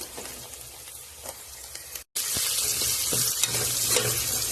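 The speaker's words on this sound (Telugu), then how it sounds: "ఫ్రై చేసుకోవాలి ఇవి కొంచెం ఫ్రై అవుతున్నాయి కదా" Vegetables for a vegetable biryani fry steadily in a pan with a loud, continuous sizzle and occasional stirring clatter, broken by a brief dropout midway before the sizzle resumes.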